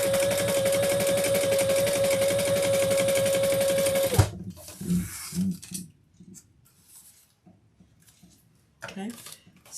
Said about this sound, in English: Now we are going to stitch across the bottom.